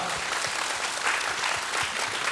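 Steady, dense applause from a large church congregation, even and sustained throughout with no pauses.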